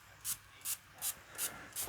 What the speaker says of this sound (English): I'm going to just spray this down and get it wet so my paint don't dry up on there